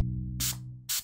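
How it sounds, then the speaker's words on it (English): An airbrush sprays black paint in two short, sharp bursts of hiss about half a second apart, over a steady low hum. "Okay, so you're not going to spray like this."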